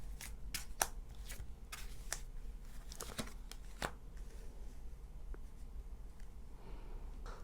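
Tarot cards are shuffled and drawn, making soft, quick papery flicks and snaps scattered over a quiet room background, with no talking.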